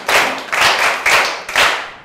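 A classroom of children applauds a classmate with loud, close group clapping that swells and eases in roughly four even pulses, with no voices over it.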